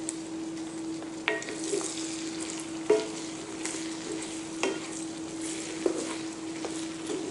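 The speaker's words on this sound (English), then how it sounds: "We're going to let those cook down with that bacon fat." Onions cooking down in bacon fat in a cast iron skillet give a steady, faint sizzle with a few sharp clicks and pops scattered through it, and nobody talks.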